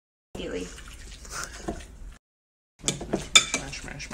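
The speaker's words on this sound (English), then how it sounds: "We're going to mash all the avocados together." Ripe avocados being mashed for guacamole with a utensil in a bowl, giving two separate bursts of close scraping and squishing with a short silent gap between them, while voices are heard faintly.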